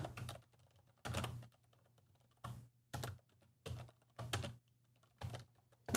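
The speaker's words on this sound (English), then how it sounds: "Nothing like the clicks of a keyboard, right?" Bursts of rapid clicking from a computer keyboard, close by, coming in several short flurries separated by brief pauses, with no speech.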